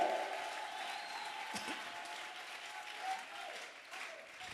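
Church congregation applauding at a sermon on the resurrection, a steady wash of clapping that holds at an even level throughout, with a few voices faintly mixed in.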